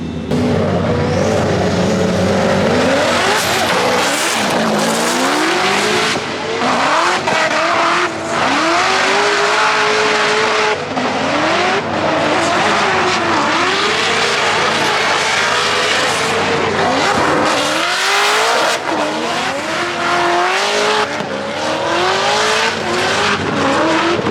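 Formula Drift cars on a chase lap at the Orlando round, engines screaming through rising and falling revs with tire squeal and skidding, loud and continuous throughout with no talk.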